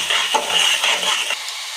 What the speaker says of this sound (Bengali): এবার গুলিয়ে রাখা মশলাটা দিয়ে দেব, দিয়ে কিছুক্ষণ কষাবো